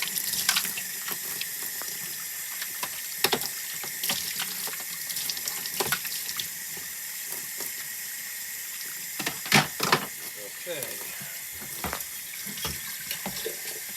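Tap water runs steadily into a sink while dairy milking equipment is washed with soap, a continuous wash with scattered clatters and splashes of handling, fairly close and alone with no voices.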